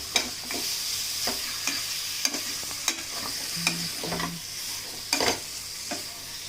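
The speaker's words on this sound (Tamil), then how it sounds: "சிக்கனை நல்லா மஞ்சத்தூள் போட்டு வாஷ் பண்ணி வச்சிருக்கேன். அதை இந்த இதில் ஆட் பண்ணிக்கலாம். ஆட் பண்ணிட்டு ஒரு கிளறி விடுங்க." A spatula stirs washed chicken in a hot frying pan while oil sizzles steadily underneath. About ten sharp scrapes and knocks land at irregular intervals.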